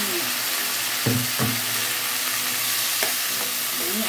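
Lodeh with winged beans and tempeh sizzles loudly in a cooking pan as a little water is poured in, steady hissing broken by a few stirring scrapes, close and without talk.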